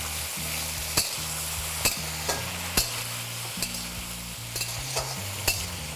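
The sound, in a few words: frying ridge gourd with black cumin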